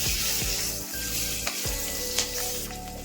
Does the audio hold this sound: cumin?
yes